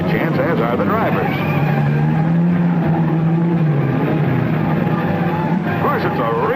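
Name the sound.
racing cars blazing past the stands in a road race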